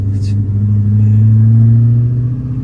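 A deep, loud engine of a Corvette ZR1 with aftermarket heads and cam rumbles steadily up close, idling with a slight rise in pitch, and a brief higher noise at the start.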